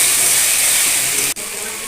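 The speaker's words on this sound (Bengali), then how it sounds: "আদা রসুন পেঁয়াজ টমেটো ভেজে নিচ্ছি।" Ginger, garlic, onion and tomato sizzle in hot oil in a pan for Bengali mustard hilsa, a steady loud broadband hiss with a brief dropout near the end.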